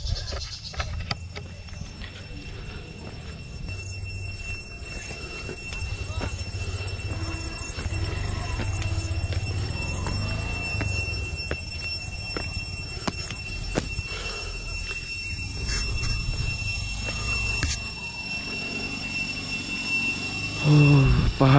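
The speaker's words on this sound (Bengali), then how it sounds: "পাহাড়ি পোকার শব্দ" Hill insects call around a resort in the Bandarban hills as a continuous high-pitched drone. Scattered thumps and other background noises sit beneath it.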